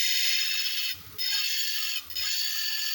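Bench grinder on a single-phase PSC motor driven by a 120V VFD at low speed, grinding a small piece of metal: a steady high whine and rasp, broken by two short pauses as the metal lifts off the wheel.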